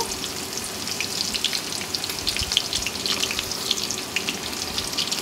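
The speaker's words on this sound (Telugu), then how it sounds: "ఇప్పుడు ఉల్లిపాయలు, అలాగే పచ్చిమిరకాయలు, కరివేపాకు వేసుకుందాము" Onions, green chilies and curry leaves fry in hot oil, a steady close crackling sizzle with bright spitting pops running through the whole stretch, faint clinks of stirring beneath, no voices.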